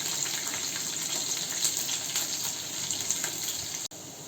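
Cumin seeds and crushed garlic fry in a little oil, a steady close sizzle with fine crackling that continues evenly, then cuts off sharply for an instant near the end.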